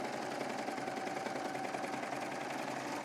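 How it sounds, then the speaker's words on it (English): A sewing machine runs continuously, stitching the side seam of a striped knit skirt: a steady, close, rapid mechanical whirr that holds an even level throughout without pauses or voices. "I think I'm going to sew this side first."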